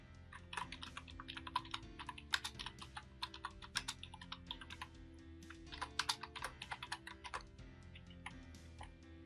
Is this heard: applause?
no